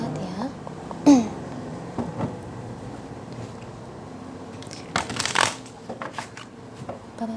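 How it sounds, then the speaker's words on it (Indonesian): Tarot cards being shuffled by hand, heard as soft papery riffles and a louder flurry of brisk shuffling bursts near the end, with no talking over it. "terutama ketika aku shuffle kartu ini"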